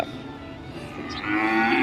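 Cattle brought to market for sale moo up close, one long, loud, drawn-out low bellow that swells toward the end.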